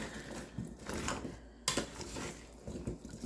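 Roasted chicken and vegetables being stirred with a big spoon, giving soft scraping and clinking of the spoon against the pan in irregular bursts, with one sharper knock partway through, close up and fairly quiet.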